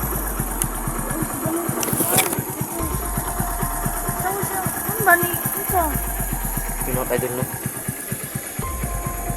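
A motorcycle engine idles nearby with a steady rapid throb throughout, while someone talks over it.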